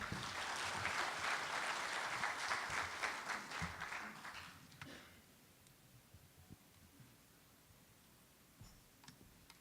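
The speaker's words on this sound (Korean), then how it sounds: "여러분 큰 박수로 맞아 주시기 바랍니다" Audience applause at a conference fills the first few seconds, steady and moderately loud, then fades out into scattered claps and quiet room noise.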